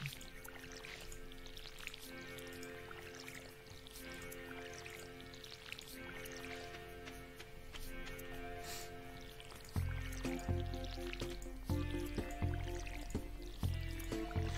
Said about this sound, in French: Aujourd'hui, on a besoin d'arroser un peu partout.